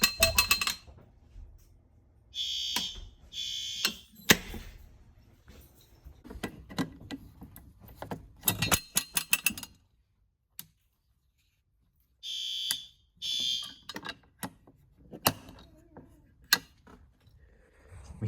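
An elementary school fire alarm sounds in bursts during testing, with loud horn blasts separated by pauses and near-silence, plus scattered clicks and handling noises nearby.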